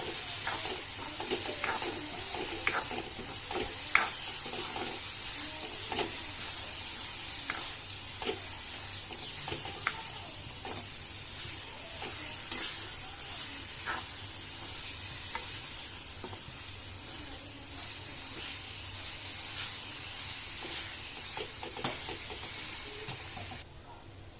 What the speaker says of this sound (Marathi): हळद टाकू, लाल तिखट टाकू. आता याला चांगलं परतून घेऊ.